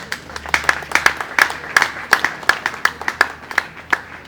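Applause from a crowd at a workshop event in Kinshasa, Congo, a steady patter of many hands clapping together with sharp individual claps standing out, sustained throughout.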